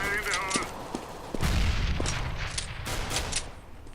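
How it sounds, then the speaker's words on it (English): Gunfire in Counter-Strike: Global Offensive comes as a handful of sharp cracks, one heavier burst landing mid-clip with a low rumbling tail, while a voice speaks over the opening. "Notices that his friend was being fired upon."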